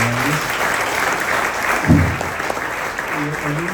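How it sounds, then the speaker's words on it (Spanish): Applause from a church congregation during a pastor's sermon, a steady broadband clapping wash with low voices and tonal hum underneath and a brief louder swell near the middle. "Un aplauso para Walter, que está cumpliendo"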